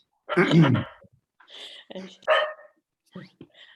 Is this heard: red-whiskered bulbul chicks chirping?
no